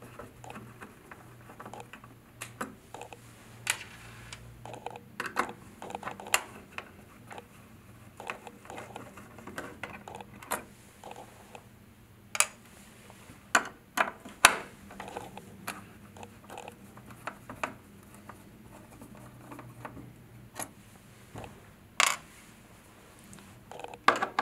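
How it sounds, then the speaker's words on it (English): Screws are being unscrewed from a circuit board inside an enclosure box on an environmental monitoring gateway. Irregular small metallic clicks and ticks are heard close up, with quiet gaps between them and no speech. "Now unscrew the screws that hold the board to the box."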